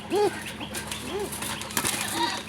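Male Madrasi Golla pigeon calling, with three short cooing notes spread evenly over about two seconds, close by, amid faint rustling and a brief knock.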